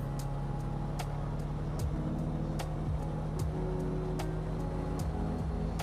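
Beechcraft Bonanza piston engine in a flight simulator being run up toward 1700 RPM, a steady loud droning hum with a slowly shifting tone and periodic faint clicks, no voices.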